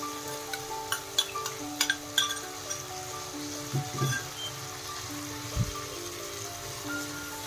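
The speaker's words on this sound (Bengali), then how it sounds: "এইভাবে এই মশলাটাকে বেশ ভালো করে কষিয়ে নেব" Ground spice masala for prawn dopiaza fries in a pan with a soft, steady sizzle, broken by a few utensil clinks and scrapes; the sound is moderately close and there is no talking.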